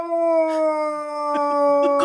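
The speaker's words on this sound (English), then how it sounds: "That dog is howling." A dog howls in a long, steady, tonal wail that fills the moment, with brief yips or whimpers breaking in toward the end.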